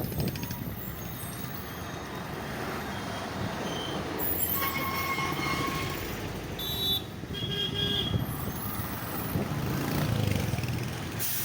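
A train at Kollam Junction railway station, rumbling steadily close by with metallic wheel squeals and brief air-brake hisses over a constant low roar.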